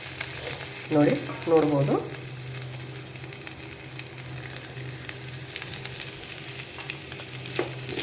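Fried cauliflower and potato tip into a pan with a steady, moderate sizzle that carries through the whole stretch, while a voice speaks briefly near the start over the frying.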